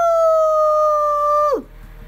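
A poodle lets out a single long, clear howl, steady and close, that drops off in a quick downward slide at the end, followed by quiet room noise.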